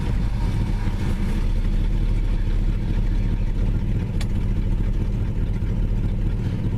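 A 1966 Chrysler 300 engine idles steadily, a close, continuous low rumble with no talking over it.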